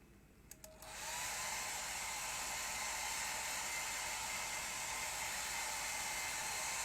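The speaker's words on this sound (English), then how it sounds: "I'll get the hairdryer on that." A hairdryer starts with a few clicks and spins up into a steady, loud, continuous whooshing roar, blowing across a watercolour painting to dry it.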